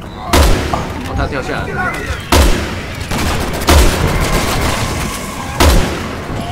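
In Resident Evil 6 on No Hope difficulty, four loud, sharp sniper rifle shots ring out several seconds apart, each booming and then decaying, amid game noise while players talk over them.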